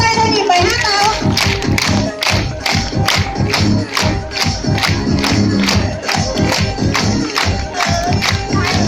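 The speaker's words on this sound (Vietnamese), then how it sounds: "chúng ta hãy vỗ tay theo nhịp bài hát nào" An audience claps in steady rhythm along to a Vietnamese children's song, the sharp regular claps sounding loud and continuous over the singing and music.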